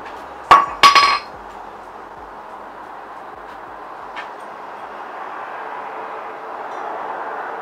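Two sharp metallic hammer taps seating a headset into a bicycle fork, close and loud near the start, followed by a quieter single tap amid a low background hum.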